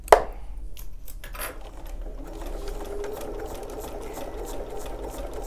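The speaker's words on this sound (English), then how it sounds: "I'm just going to start with sewing the waistband on" A sewing machine stitches a waistband onto tricky fabric, running steadily and close for several seconds after a brief sharp click at the start, a continuous mechanical hum with rapid needle rhythm.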